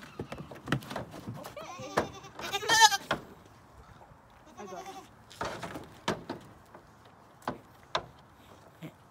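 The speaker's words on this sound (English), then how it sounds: "Let's go get the goats so that we don't leave them all by themselves." Several goats bleating in short, uneven calls close by, some overlapping, with a few knocks and rustles between them.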